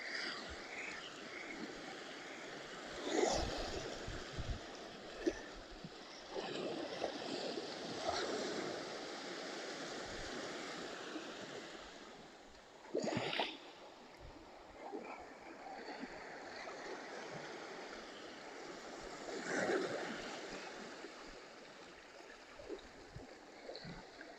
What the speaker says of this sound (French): Je vous laisse profiter du bruit de l'eau.